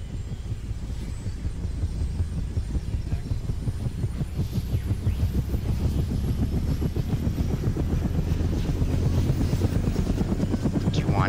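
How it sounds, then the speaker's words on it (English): A helicopter in a Vietnam War video game, its rotor throbbing in fast, steady beats with a deep low rumble, loud and close, growing slightly stronger over time. "We're going to take a chopper and bring it to you."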